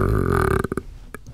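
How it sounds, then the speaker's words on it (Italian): A person burps loudly in one long, drawn-out belch followed by a few short clicks and a brief final gulp, close and alone with no talk. "Questo sta ruttando ancora."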